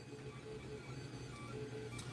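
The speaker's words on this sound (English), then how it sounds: "Yep, the beeping. That's the 3D printer." Quiet, intermittent electronic beeps from a 3D printer hum faintly over a steady machine drone in the background.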